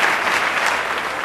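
Studio audience applause after a song on an AM radio afternoon show, a dense, steady wash of many hands clapping close and loud for the whole moment, with no voices over it.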